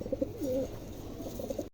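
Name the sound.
silver and qua almond king pigeons cooing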